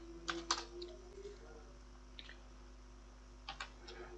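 Someone types on a computer keyboard, with quiet, close keystrokes in short clustered bursts and pauses between them over a faint steady electrical hum.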